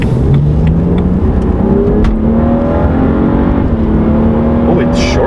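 Engine of a 2013 BMW 135i pulling hard under acceleration, with rising drones that climb and drop as it short shifts through the gears, loud and continuous with steady road and wind noise underneath.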